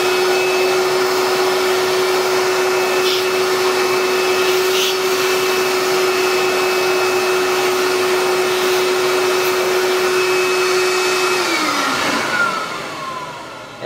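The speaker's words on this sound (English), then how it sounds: "now I'm going to vacuum out some of the crud that's there" A loud, steady vacuum cleaner whine runs continuously while sucking dust out of an ARP Pro/DGX synthesizer, then winds down and fades near the end.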